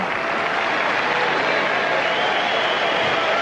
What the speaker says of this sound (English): A lot of applause for this